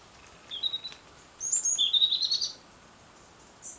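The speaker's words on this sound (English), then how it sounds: "A few birds around." Birds chirp in calm evening fading light, with a few short tweets, then a longer run of quick high chirps, and one last call, fairly near against a quiet background.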